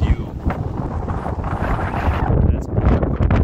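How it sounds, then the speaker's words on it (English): Strong gusting wind buffets the microphone at a mountain lookout beside a trail in Gaspésie National Park, a loud continuous roar with low rumbling bursts throughout. "Oof, is it ever windy here?"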